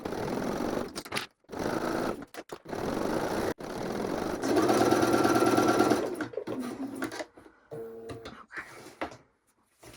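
A sewing machine stitches a raw-edge leather card wallet seam in short close bursts of rapid mechanical whirring, separated by quiet pauses, with one longer steady run in the middle.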